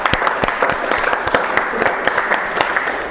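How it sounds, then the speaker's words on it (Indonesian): A classroom group applauds group 3 in an Indonesian university teacher-training session: loud, dense clapping from many hands, steady and close, for about three seconds. "Sebelumnya kita aplaus dulu untuk kelompok 3."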